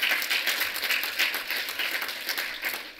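An audience at a Mannheim history event claps together, a close, even burst of many hands that runs steadily for about three seconds with no voices over it.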